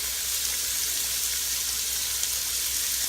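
Onion, meat, carrots and celery sautéing in an Instant Pot for Cajun jambalaya, giving a steady, even hiss of frying with no breaks, no talk and no loud accents across the short stretch.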